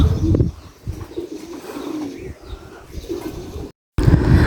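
Pigeons kept outdoors on a very hot, sunny day coo in low, repeated murmurs close by, with a few louder bursts at the start and end and a brief dropout near the end.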